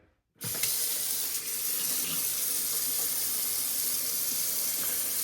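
A kitchen faucet is switched on, sending tap water through a newly fitted sink drain flange. The water comes in suddenly and then pours as a steady, close, loud rush.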